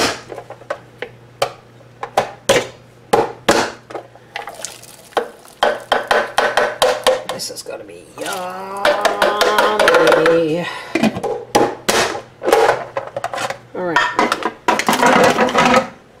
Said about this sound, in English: I'm cutting them all in smaller pieces so that they'll cook faster.